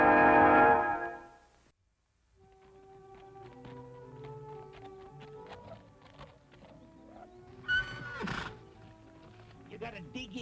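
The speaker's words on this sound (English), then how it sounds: "a great wild horse and the only person on earth who can ride him" A great wild horse lets out one loud, shrill whinny at the start. Quieter snorts, hoof taps and voices follow.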